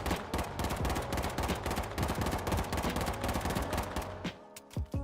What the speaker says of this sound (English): Now let me show you the burst version of this gun.